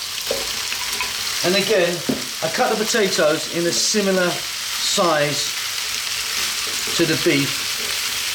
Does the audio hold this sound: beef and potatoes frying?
yes